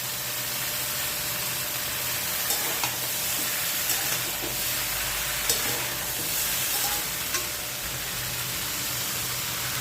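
Cut eggplant pieces frying in a pan of vegetables for dudh shukto give off a loud, continuous close sizzle with a few faint scrapes scattered through, and no voices.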